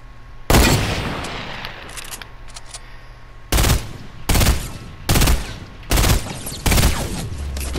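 Gunfire in Fortnite bursts out in loud, close volleys: one long spray, then five evenly spaced short bursts of rapid shots with no talk.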